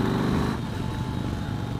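A Yamaha Star Raider motorcycle engine pulls hard in third gear, producing a steady, dense low rumble that stays close and even through the short burst, with no voices over it.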